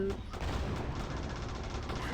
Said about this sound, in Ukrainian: Да що ви стріляєте?